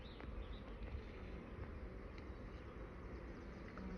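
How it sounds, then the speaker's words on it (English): A dense hum of honey bees at a hive fills the air, steady and soft, with individual buzzing insects passing close now and then. "there's a lot of bees in there"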